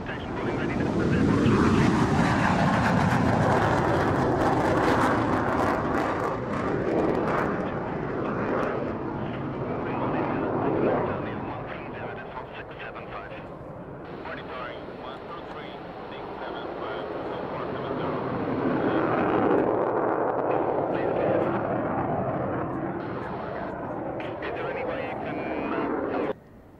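An airplane takes off from runway 27, its loud, broad engine roar holding steady throughout, swelling and easing slightly as it moves, with voice radio traffic mixed in.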